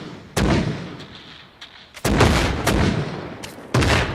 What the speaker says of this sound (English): So luckily they can't fire on themselves. So they're firing 10 shots.